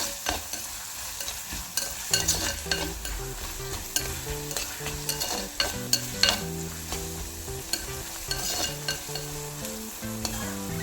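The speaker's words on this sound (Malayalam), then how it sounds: "അപ്പോൾ ശരിക്കും നന്നായിട്ട് വഴറ്റി വന്നിട്ടുണ്ട്." Onions sauté in a pan for anchovy peera, with a continuous soft sizzle and repeated close scraping stirs and light clinks of a spoon against the pan.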